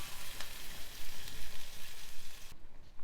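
Spice paste of ground mustard seeds and cumin sizzles loudly and steadily in hot oil, a dense crackling hiss that drops off sharply near the end.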